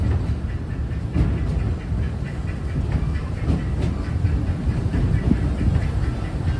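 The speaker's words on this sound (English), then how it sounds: "please remain seated until the train comes to a complete stop" Disneyland Railroad train rolling along its track at night, a steady low rumble with faint rhythmic clatter of wheels over rail joints, continuous and fairly close throughout.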